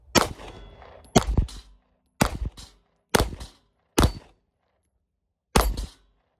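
Six sharp, loud pistol shots from a .32 H&R Magnum fired at steel plates, spaced about a second apart with a longer pause before the last, each followed by a brief ringing decay and silence between.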